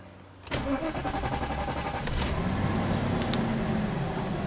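A cold 1991 Mercedes-Benz 420 SEL engine cranks and catches, then settles into a steady idle, close and loud.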